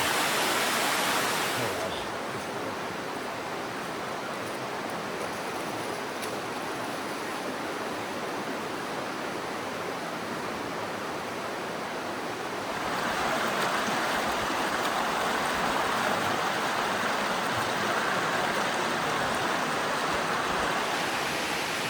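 River flowing through The Narrows slot canyon in Zion National Park, a continuous close rushing wash of water that swells louder and brighter about halfway through.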